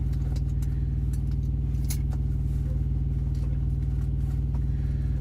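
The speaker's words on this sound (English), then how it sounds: "Excuse the noises from the truck while I crack a window here." A truck cab hums with a steady low engine drone and rhythmic vibration while the window is cracked open, with small clinks and rattles scattered over the top and no talking.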